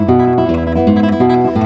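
Classical guitar tremolo playing Malagueña, a steady rapid repeated-note shimmer over a lower moving bass line, clear and close with no talking.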